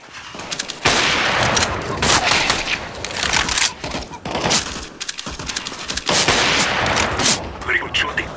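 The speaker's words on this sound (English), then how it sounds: "Very good shooting." Counter-Strike: Global Offensive gunfire, loud repeated bursts of shots in quick volleys separated by brief pauses, close and sharp throughout.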